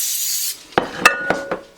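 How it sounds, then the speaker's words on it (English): Coconut cooking spray hisses briefly from a can as a loaf pan is greased, a soft half-second burst followed by a few close, sharp clicks and taps of the can and pan in a quiet kitchen. "we're just gonna spray our pan, make sure it's greased nice and well"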